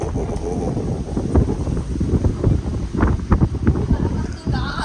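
Strong wind blows in the morning outdoors near water, a loud, continuous rumbling gust buffeting the microphone throughout, with faint bursts that may be voices.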